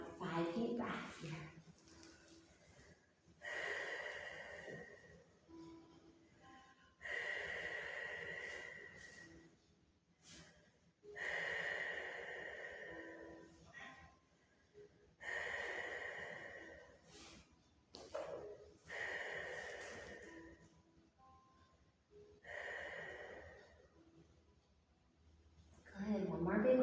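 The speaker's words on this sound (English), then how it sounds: "take about 5 deep breaths here" Slow, deep yoga breaths come in a regular cycle, each long inhale and exhale a soft, airy rush. They alternate with quiet gaps in a calm indoor setting.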